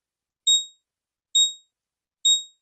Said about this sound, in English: chart alarms keep filling up